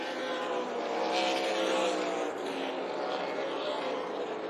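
Race cars battle for position at Tucson Speedway, their engines forming a continuous roaring drone at a steady middle distance, with a voice speaking over it throughout.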